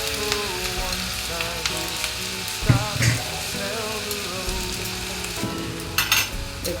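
Rice is tipped into a hot pan for fried rice and sizzles with a continuous frying hiss, broken twice by brief clattering as a utensil stirs and scrapes the pan.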